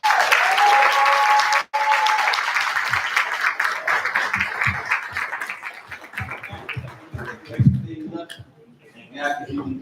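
An audience at a business conference awards show applauds a panel, with loud, dense clapping that fades over several seconds, leaving scattered voices and talking toward the end.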